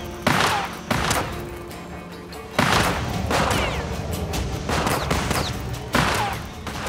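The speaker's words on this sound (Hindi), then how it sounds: "मैं कह रहा हूँ गोली चलाओ आसिफ" Loud bursts of gunfire crack repeatedly, several sharp shots in quick clusters with echoing tails, close and intense.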